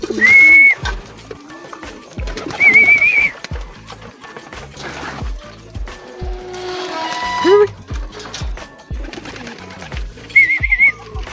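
A racing pigeon fresh from the Pinamalayan race gives soft, repeated cooing notes close by, mixed with handling clatter, a few sharp whistle-like chirps and brief bursts of activity.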